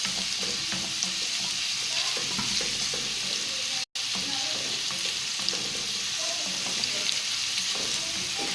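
Onions fry in hot oil for a fish stew, giving a steady, dense sizzle that runs throughout at moderate volume, close up and without talk.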